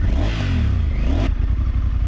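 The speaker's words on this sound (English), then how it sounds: "Give it a bit of a rev." A 2023 Honda CRF1100 Adventure Sports motorcycle engine revs hard, rising and falling through its exhaust, then drops back to a lumpy throbbing idle, loud and close with no talking.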